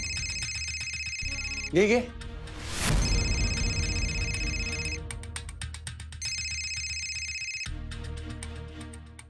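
A mobile phone ringtone plays a repeating electronic melody in bursts, fairly clear and close, broken by a short spoken word and a loud rustling swish midway.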